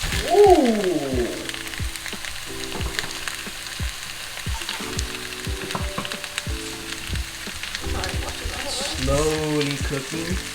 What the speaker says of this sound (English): This is what we're gonna hear A lot of sizzling.